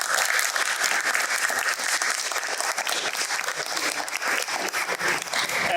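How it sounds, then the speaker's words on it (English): An audience applauds a student team at a school Shark Tank-style design pitch event, with dense, steady clapping that holds for about six seconds and no talking over it. "So a round of applause for Team 5."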